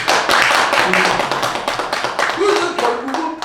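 Audience at a Korean lecture on growth, change and innovation gives a round of applause, sharp close hand claps in a dense rhythm, with a voice briefly audible underneath toward the end.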